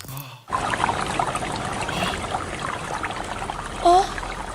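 Water flowing at the Pool of Siloam, a soft steady trickle and rush heard after a brief quiet start, with a breathy gasp-like voice sound near the end.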